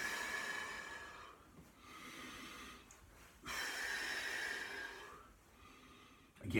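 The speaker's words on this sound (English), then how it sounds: "again, I'm overemphasising the breathing." Exaggerated breathing during a qigong exercise: slow, audible inhales and exhales, each lasting a second or two, soft and close, with a sharper breath at the end.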